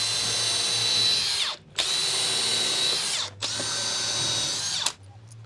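Power drill driving a fixing through into the timber behind a sash window frame, three long loud whirring runs with short pauses between them, close by and alone.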